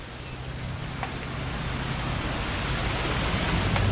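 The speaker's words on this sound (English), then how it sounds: "It's gonna rain the whole weekend, isn't it?" Rain falls steadily in the video game What Remains of Edith Finch, a broad even hiss that grows slightly louder over a few seconds, with no voices.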